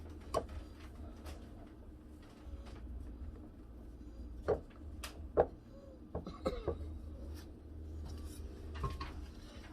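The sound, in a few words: folding keto blackberry mousse mixture in a bowl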